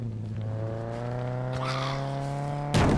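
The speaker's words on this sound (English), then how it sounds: "There's a tractor." A tractor engine in the survival game SCUM drones steadily at close range with a low, even tone, then a sudden loud burst of noise cuts in near the end.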